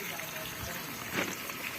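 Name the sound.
water running from an open tap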